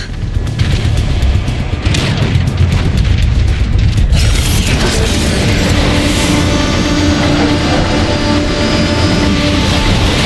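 Heavy cannon fire in the Transformers: Fall of Cybertron video game, loud booming blasts at the start followed by a sustained roaring rumble of explosions and mechanical noise, no talking.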